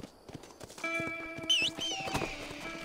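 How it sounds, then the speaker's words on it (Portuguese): Horse hooves clip-clop in Red Dead Redemption on PS5, a steady rhythmic trot at moderate distance with tonal game music and brief whinny-like sounds layered over it, no talk. "Cadê meu cavalo? Caralho, não era esse meu cavalo."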